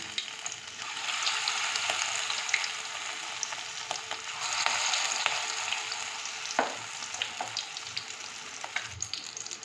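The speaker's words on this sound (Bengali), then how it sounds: "এবার এটাকে ভালো করে মাখিয়ে নিয়ে ভাজবো।" Soya and flattened rice pakoras fry in hot oil with a continuous close crackling sizzle, a few sharp spatters and occasional utensil clicks, and no voices over it.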